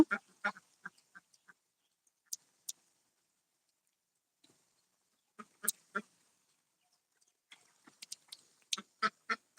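Ducks on a duck farm give scattered bursts of quacking, several close calls clustered at the start, middle and end with silent gaps between.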